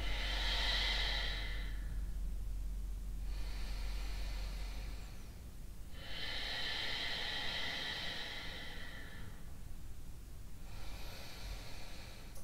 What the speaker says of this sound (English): we want to take 5 deep breaths